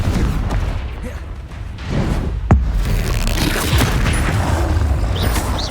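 Spell blasts in the PS5 game Hogwarts Legacy: dense, loud rumbling combat noise with a sharp burst near the middle, in a busy and continuous fight mix.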